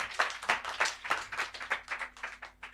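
A church congregation at a Sunday tent meeting applauds with a steady run of rhythmic hand claps, about a dozen distinct beats, clear and close with no speech over them.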